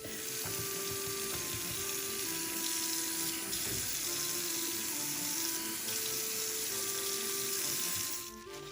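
Hot water runs steadily from a tap into a bathtub, a continuous close hiss and splash that keeps an even level before cutting off at the very end. No one speaks.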